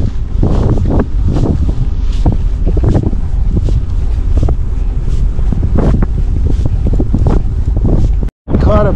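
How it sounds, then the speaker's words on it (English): A strong headwind buffets the microphone while cycling along the Rhine river route in Germany. Loud, gusty rumbling roars and pulses throughout, then cuts out briefly near the end. "It's a big headwind coming up the Rhine."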